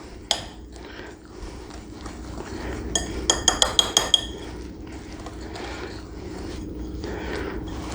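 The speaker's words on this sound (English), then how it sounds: "And give it a mix." Whoopie pie batter mixed in a bowl: a steady soft scraping and swishing, with a quick cluster of bright utensil clinks against the bowl partway through.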